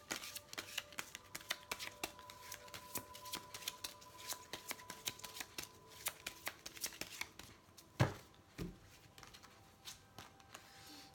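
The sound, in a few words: shuffling oracle cards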